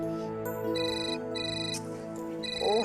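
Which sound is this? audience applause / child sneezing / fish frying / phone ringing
phone ringing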